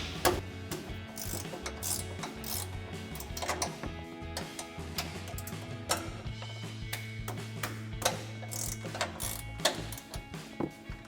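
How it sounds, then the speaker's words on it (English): A 15 mm ratcheting wrench loosening strut nuts on a 2014-2020 Ford F-150 during an upper control arm lift install, giving rapid irregular clicking and ticking bursts over a steady mechanical hum, close and moderately loud. "So I've got a 15 millimeter ratcheting wrench that we'll use to loosen these up."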